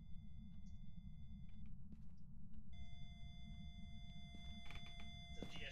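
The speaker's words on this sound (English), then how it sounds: "Oh, that's an EMF-5." An EMF reader in the ghost-hunting game Phasmophobia holds a steady, faint electronic tone at level 5. It cuts out briefly, then resumes over a low background rumble.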